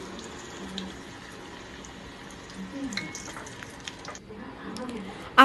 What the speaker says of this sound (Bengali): এভাবে ব্যাটারে ডুবিয়ে কুমড়ো ফুলগুলো কিন্তু ভেজে নিতে হবে।